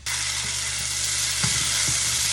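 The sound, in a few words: fish sauce ingredients frying and being stirred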